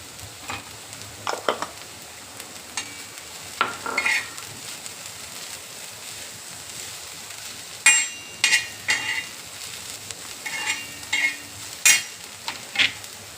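Bell peppers being stir-fried on a flat griddle pan, with a steady sizzle broken by several sharp scraping and clinking strokes of a spatula, loudest in quick bursts near the end; no one speaks.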